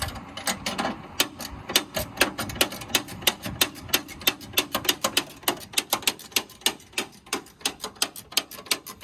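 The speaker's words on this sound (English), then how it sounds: "we're gonna just go ahead and trudge along with this ratcheting wrench" A ratcheting wrench clicks while a theft-proof bed anchor goes into a Toyota Tacoma truck bed: close, crisp, rapid clicks in steady repeated strokes with short pauses between runs.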